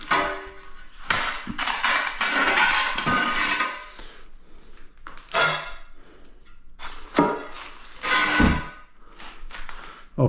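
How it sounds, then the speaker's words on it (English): A hammer drives a chisel to pull out a bathroom floor, giving a series of sharp metallic strikes and scraping clatters in irregular bursts, loud and close, with pauses between blows. "so I'll get a hammer and chisel."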